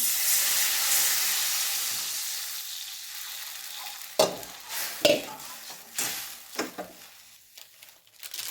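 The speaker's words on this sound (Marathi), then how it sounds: "चांगलं परतून झाल्यानंतर आपण थोडं पाणी टाकूया" Water poured into a hot, sizzling pan while cooking a Maharashtrian chakolya or varanphal dish. A loud, steady sizzle fades over several seconds, then gives way to sharp bursts of stirring and scraping. No one speaks.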